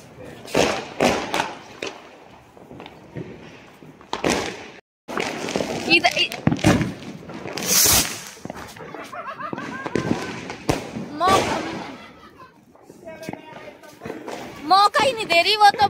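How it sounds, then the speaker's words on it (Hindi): Diwali fireworks and a chakri ground spinner crackling and fizzing in Ayodhya, with repeated sharp bangs, sputtering bursts and whistling sparks, while several people shout and talk excitedly throughout. "ये कैसी चक्री है भाई?"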